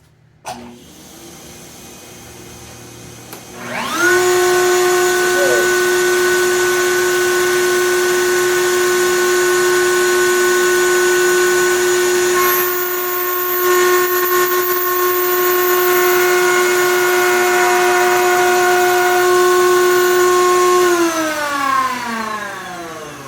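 A table saw making its first rip cut through wood strips spins up into a loud, steady whining tone, holds it evenly for a long stretch, then winds down in pitch as it coasts to a stop, with no talking.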